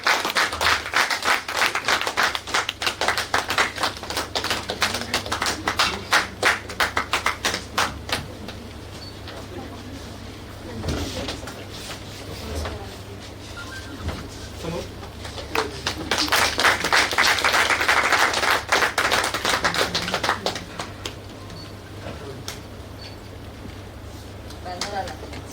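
Audience applause at a Vasudha Foundation 2025 award ceremony, bursts of clapping rising and falling across the clip, with a louder swell near the end, mixed with background talk from the hall.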